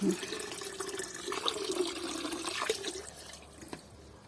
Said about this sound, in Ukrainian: Що тут водичка у нас лється?